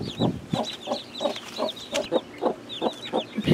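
A broody hen clucks steadily over her newly hatched chicks, rapid low rhythmic clucks about twice a second, close by, with high peeping chicks chirping throughout.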